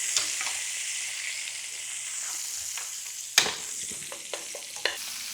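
Beef sears in a hot pan while being turned with tongs: a soft, even sizzle broken by a few sharp metallic clacks and a louder hiss burst midway, no speech.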